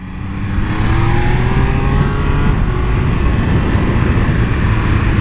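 A Triumph Speed Triple 1200 RR sport motorcycle engine roars loudly and steadily, rising in pitch as it accelerates, close and continuous with no voices.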